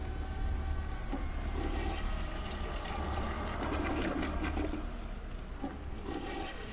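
A toilet flushes in the video game Call of Duty Black Ops 3, a steady, loud rush of water that runs without a break, with no voices over it.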